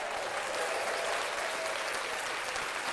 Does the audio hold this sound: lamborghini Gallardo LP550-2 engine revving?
no